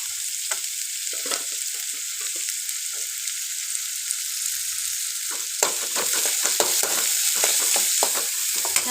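Chopped garlic frying in hot oil in a pan, a bright, steady sizzle that swells and crackles more busily partway through, close and without talk.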